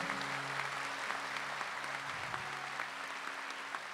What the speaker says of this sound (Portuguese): vamos aplaudir isso aqui